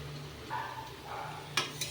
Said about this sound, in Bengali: তেলের মধ্যে ছেড়ে দিয়েছি,